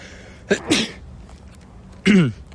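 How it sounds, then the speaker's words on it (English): A person sneezes twice, a short sharp burst followed by a louder one about a second and a half later, close to the microphone. "I'm gonna sneeze"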